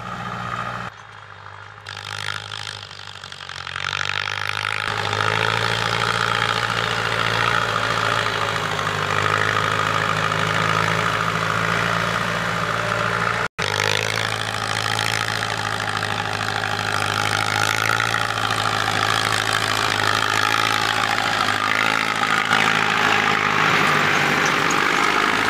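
A Ford 7610 tractor's diesel engine and exhaust chug steadily at close range, a loud low throbbing idle with knocking pulses. After a quieter opening second or two it holds loud and even, with no talk.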